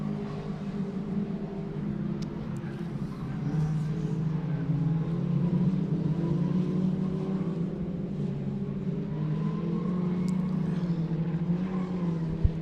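Rallycross cars at Mondello Park race down the main straight, a sustained engine roar that builds slightly and holds steady, with a few sharp clicks and a brief pop near the end.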